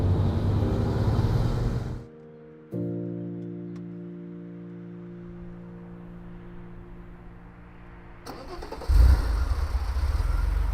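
An air-cooled Porsche 911 engine cranks and catches, settling into a steady, smooth idle hum before a loud burst of revving near the end.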